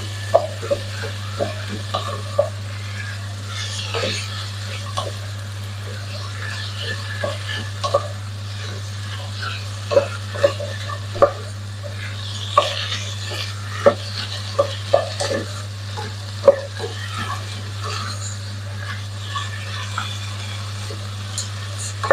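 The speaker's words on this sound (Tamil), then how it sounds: "அப்படியே நாங்களும் இந்த வெறும் சட்டியில் கொஞ்ச நேரம் வெங்காயம், வெள்ளப்பூடு, உப்பும் போட்டு" Onion, garlic and salt are stirred in a dry pan for chicken rasam, a soft sizzle broken by repeated scraping clicks of the spoon against the pan over a constant low electrical hum, with no speech.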